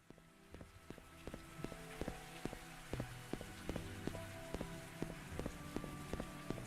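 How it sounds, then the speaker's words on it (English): Steady rain falls in a video game, a soft patter of drops on a surface with regular faint tapping, quiet and continuous with no voices. "you've been watching it rain here for like the whole time"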